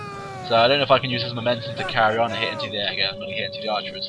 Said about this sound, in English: That was my cat behind me.